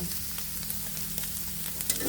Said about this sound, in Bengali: আর এক থেকে দুই মিনিটের মতো একটু ভেজে নেব